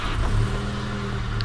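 A Toyota MR2 engine idles with a steady, low, even hum, close by and unbroken.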